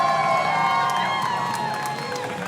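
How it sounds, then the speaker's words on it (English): A crowd at a women's tournament in a neighbouring space cheers and shouts in a steady, distant roar, with sustained tones from a nearby dance rhythm game arcade machine layered over it, fading slightly toward the end. "A lot of hype from the crowd for the women's tournament happening next to us."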